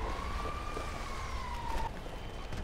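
An ambulance siren in the GTA 5 video game sounds a single long wail that slides gently downward, set against a constant hiss resembling rain.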